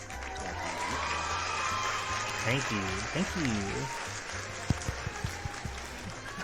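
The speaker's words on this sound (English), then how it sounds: "I think there should be a round of applause for our fantastic host" A small group claps for a game-show host in a retro game trivia show, the applause steady under overlapping voices and laughter, tapering into a few scattered claps near the end.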